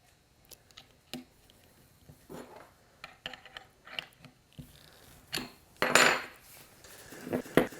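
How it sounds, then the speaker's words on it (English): Solid carbide router bit, 7mm, being fitted into a Festool MFK 700 router for drawer building: a string of small metallic clicks, taps and scrapes, close and fairly quiet, with short gaps between handling noises and no talk. "So I picked up a 7mm solid carbide router bit from Festool, and we'll mount that in our MFK 700 router."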